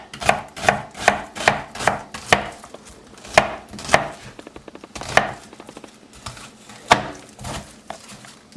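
A knife chopping onions on a cutting board for Haitian pikliz, with quick bursts of crisp, loud chops in a steady rhythm and a short patch of fast, lighter taps, heard close with no talking.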